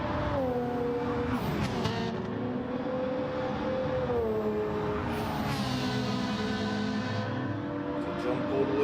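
Race cars, a Toyota Supra, a McLaren and a Ferrari, driving up a hill, with a steady engine drone whose pitch rises and falls as they accelerate and shift, loud and continuous.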